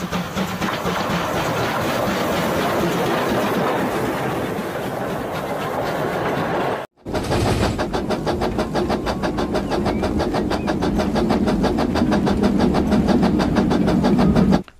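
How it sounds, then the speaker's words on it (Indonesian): A toy steam locomotive runs along its track with a quick, even clickety rattle that carries on loudly, pauses briefly partway through, then resumes close and steady. "ada dua kereta steam atau kereta lokomotif"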